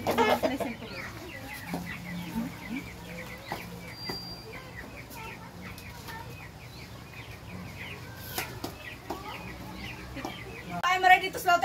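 A chicken set for slaughter gives repeated soft clucks and low murmurs nearby, with a few sharp knocks and a brief burst of voice near the end.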